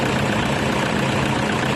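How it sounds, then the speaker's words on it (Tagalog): Toyota Innova diesel engine idling after EGR cleaning, a steady close broadband rumble with constant low drone and no change in pitch throughout, no voices. "yung EGR system natin, hayaan lang natin muna siyang naka-idle"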